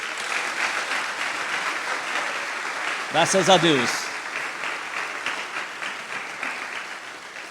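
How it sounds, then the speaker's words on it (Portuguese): Church congregation clapping in praise during a Sunday morning missionary conference service, a steady dense wash of applause throughout, with a brief spoken exclamation over it midway. "agora sim, nós podemos louvar ao Senhor com as nossas palmas."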